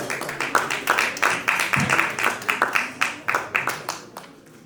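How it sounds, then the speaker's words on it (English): Scattered applause from an audience at a leadership institute launch event in New York, individual claps clearly separated and gradually tapering into sparse, fading hand claps. "let's give a big round of applause for them"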